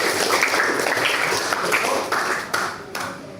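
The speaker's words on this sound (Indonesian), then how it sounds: "Tepuk tangan untuk Mas Eka." Classroom applause for a student after a lesson, a dense steady patter of many hands clapping that fades slightly toward the end with a few louder individual claps.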